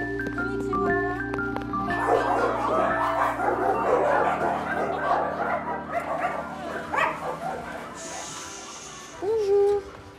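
Several dogs at a dog rental shop in Tokyo bark and yip in quick overlapping bursts, fairly close, with a steady hum beneath and a brief hiss near the end.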